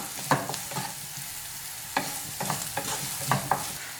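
Onions and green peas stirred in a frying pan for a street-style green peas egg stir fry, a spatula scraping in several distinct strokes over a steady low sizzle, close and clear with no talk.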